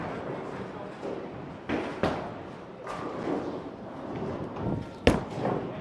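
A Track Cypher Pearl bowling ball, thrown with slightly transitioned lane oil, strikes the pins in a sharp crash that ends on a loud clatter. Other thuds and general alley noise surround it.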